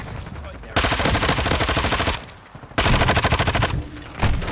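Bursts of rapid automatic gunfire from Call of Duty: Modern Warfare II, two long loud volleys with a brief pause between and a short burst at the end, close and dominant.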